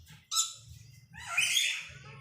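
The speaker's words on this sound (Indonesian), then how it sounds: "Ini burung obi." A Moluccan cockatoo, an endemic Maluku parrot, gives two harsh squawking calls close by, a short one then a longer raspy one, over a low background murmur.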